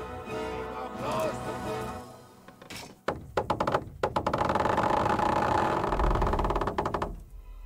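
A trebuchet shot in the video game Kingdom Come: Deliverance: a heavy thunk followed by a rapid series of sharp knocks and clatters against walls over a dense rumbling din, then a last burst of impacts.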